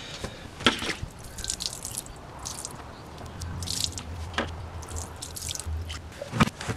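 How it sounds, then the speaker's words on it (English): A rusty brake part being rinsed off with water gives wet, splashing drips and squishy sloshes in irregular bursts, close and moderately loud, with no speech. "Now I'm going to rinse it off."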